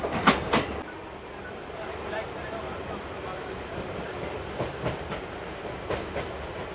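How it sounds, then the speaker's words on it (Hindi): The Raigarh Jan Shatabdi Express runs on the rails with a steady rumbling roar and intermittent clicks of wheels over rail joints, after a couple of sharp knocks at the start. "रायगढ़ जनशताब्दी एक्सप्रेस।"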